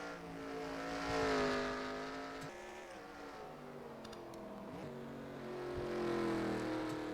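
Race cars in NASCAR Racing 2003 on a circuit at Shanghai, engines droning and rising and falling in pitch as they pass, a steady mid-level roar that swells twice over several seconds.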